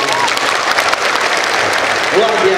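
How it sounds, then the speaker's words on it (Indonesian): Loud, dense applause from a university lecture audience of students, steady clapping filling the whole stretch with crowd noise and a voice faintly heard beneath it. "Ya, tepuk tangan buat kalian"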